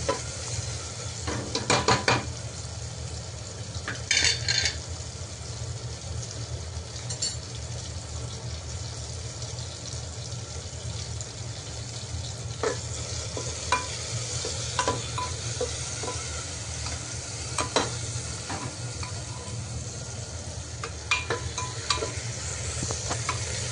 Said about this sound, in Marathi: याला आता 2 मिनिटं ना चांगलं परतू देऊ.